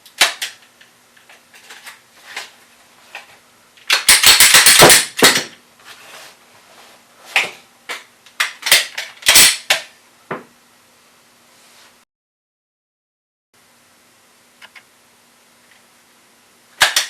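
Handgun malfunction drill: a magazine is tapped and pulled, and the slide is racked and locked to the rear. The result is a run of sharp metallic clacks and snaps, loudest around the middle, followed by a few quieter clicks after a pause.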